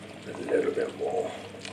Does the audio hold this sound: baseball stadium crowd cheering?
no